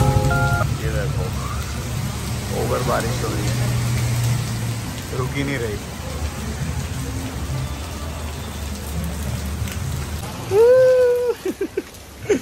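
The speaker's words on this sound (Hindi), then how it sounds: "इतनी तेज बारिश हो रही है" Steady heavy rain pours throughout, a dense continuous hiss; near the end it thins as a voice speaks briefly over it.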